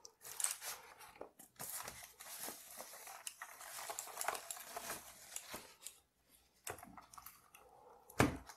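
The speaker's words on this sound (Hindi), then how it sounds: "और यहाँ पे ओपन करते हैं हमारा कीबोर्ड।" Packaging of an Ajazz AK33 mechanical keyboard is opened and handled, with scattered crinkles, taps and rustles of box and wrapping at close range, plus a sharper knock near the end.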